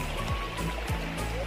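A jungle stream in the Satpura mountains flows steadily after rain, a continuous broadband rush with some low rumbling, fairly close and even in level.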